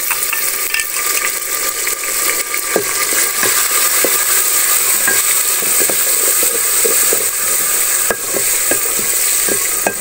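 A chopped tomato fries for dal in a pan, giving a steady, loud sizzle with scattered sharp clicks and scrapes from stirring throughout, and no voices.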